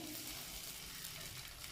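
Dosa batter fries on a hot pan with a steady, soft hiss of sizzling that stays even and unbroken throughout, close but quiet.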